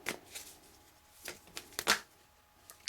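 Tarot cards being shuffled by hand, with a few cards slipping out: brief papery riffles and soft flicks in irregular bursts, close and fairly quiet, with no talk.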